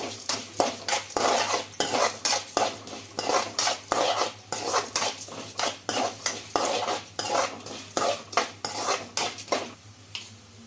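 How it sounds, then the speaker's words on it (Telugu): Coriander seeds, cumin and urad dal frying dry in a pan, a spoon or spatula scraping and clanking against the metal in a steady repeated rhythm, close and clear with a faint sizzle beneath and no talking. "ధనియాలు జీలకర్ర మినప్పప్పు అనేది బాగా కలర్ రావాలి"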